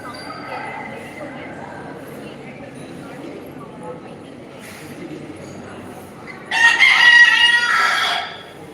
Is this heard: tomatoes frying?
no